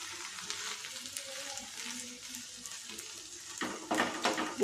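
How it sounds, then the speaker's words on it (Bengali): Moong dal chilla frying in a pan, a steady close sizzle with light crackle throughout, rising to a few louder scraping and spattering bursts near the end. "উল্টো পিঠটাকেও ঠিক এরমভাবেই ভেজে নিতে হবে।"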